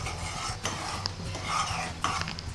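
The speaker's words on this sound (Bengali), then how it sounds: "এবার আমি এই কাঠি ভাজাগুলো এর মধ্যে দিয়ে একটু মিক্সড করে নেব।" Fried kathi bhaja flour sticks are stirred into sticky sugar syrup in a pan. Close, steady scraping and stirring with a few sharp clinks of the utensil against the pan, and no voices.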